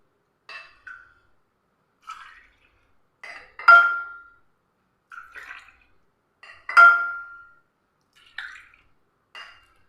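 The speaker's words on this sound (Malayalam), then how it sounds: "അപ്പം ഞാനിതൊന്ന് ഇതിലേക്ക് അങ്ങ് ഒഴിച്ചു കൊടുക്കാം" Liquid lemon drink is poured into paper glasses in a home kitchen, heard as a series of short, close splashing pours with small clinks and drips in between, and no talking.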